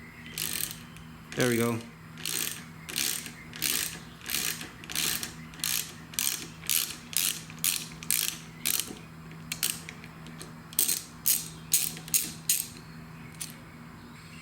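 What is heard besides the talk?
ratchet with 6mm Allen socket undoing motorcycle grip bolts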